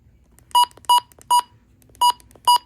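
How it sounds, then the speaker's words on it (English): A weather radio's buttons give five short, clear electronic beeps, each about a tenth of a second long and spaced unevenly with a pause before the last pair, close and alone with no talk. "I'm gonna let you guys hear the button beeps while I do this."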